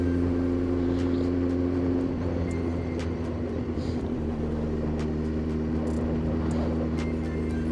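A Kawasaki ZX9R sport motorcycle idles at low revs around 2000 RPM. Its engine gives a steady, droning hum with a strong low tone that stays close and even, and there are faint clicks over it.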